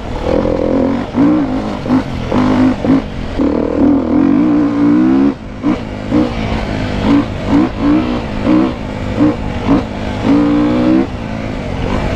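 A Beta 350 four-stroke enduro motorcycle from 2017, with revised valve springs, runs loud and close, its engine note repeatedly rising and falling as the throttle is blipped and released.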